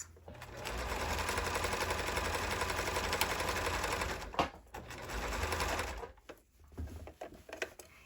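A sewing machine stitches around a fabric edge at 2.5 stitch length, running steadily for several seconds with a fast mechanical whir, pausing briefly, then stitching again before stopping amid light handling noises.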